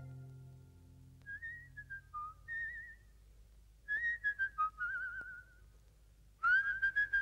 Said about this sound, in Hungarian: Épp meg a reggeli helyet fütyültem.